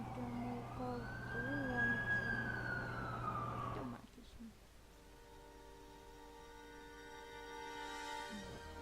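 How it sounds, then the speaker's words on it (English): Siren of an arriving ambulance in The Amazing Spider-Man 2 video game, a clear wailing tone rising and falling over a low engine hum, cutting out midway and leaving quieter background game ambience. "That's the ambulance I called."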